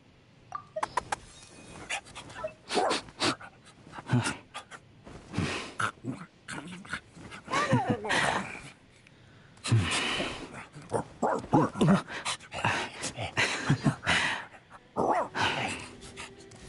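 A dog character in the video game Genshin Impact pants in quick rhythmic bursts with short yips and whimpers, close and clear, broken up by brief pauses.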